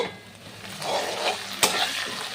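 Tomato and spices sauté in a pan for moong dal, giving a moderate steady sizzle with a few scrapes and one sharp clack of the utensil, and no talking.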